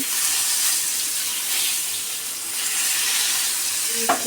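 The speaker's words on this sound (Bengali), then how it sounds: "মাছগুলোকে এখন ভেজে নিচ্ছি তাওয়ায় দিয়ে দিচ্ছি" Fish frying on a tawa griddle in a home kitchen, a steady loud hiss and sizzle of hot oil throughout with no talking.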